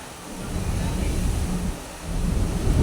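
Typhoon Nando batters Manila with a loud, close, continuous roar of wind and heavy rain, surging in low gusty swells with no voices heard.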